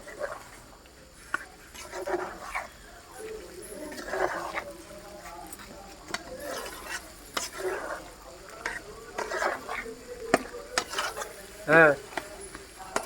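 Chicken curry is stirred in a pan, with close, irregular scraping and a soft sizzle running through the whole stretch while people talk over the cooking.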